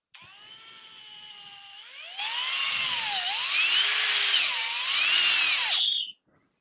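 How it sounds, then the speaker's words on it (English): An electric drill in a woodturning workshop runs steadily, then winds up to a louder, higher whine that wavers and dips in pitch as it works, close and continuous with no talking, before cutting off abruptly. "Well, that's the drill packed up now"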